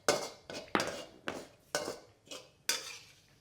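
A metal slotted spoon scrapes and clinks against a pan seven times in an irregular rhythm while scooping fried garlic out of hot oil, each hit sharp and close with a quick decay.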